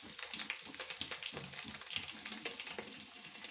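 Two sprigs of curry leaves frying in hot oil for sambar, a dense continuous crackling sizzle with small popping bursts, close and moderately loud, no talking.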